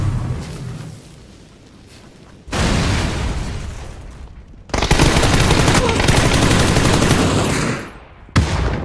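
Loud bursts of rapid video game gunfire and blasts rip through in waves, with a heavy tank explosion and dense, crackling shooting that cuts off abruptly.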